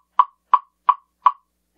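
Four evenly spaced, sharp knocks on a woodblock struck with a hard gray Encore rubber mallet wrapped in electrical tape, each a bright hollow click dying away quickly, close and fairly loud.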